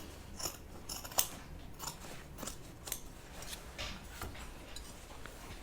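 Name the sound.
scissors cutting fabric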